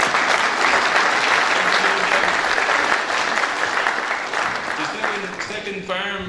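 An audience at a dairy farming conference applauds a speaker with a loud, dense, sustained burst of clapping that fades slightly near the end, where a voice begins under it.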